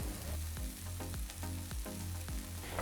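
Beef and noodle stir fry tossed with sauce in a hot pan, a steady close sizzle with repeated soft clatters and shuffles as the food is stirred and flipped, no voices.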